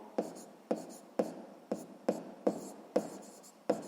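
Pen writing by hand on paper while working a sixth-grade maths exercise, sharp regular scratching strokes about every half second, close and fairly quiet, with faint breathy voice in the background.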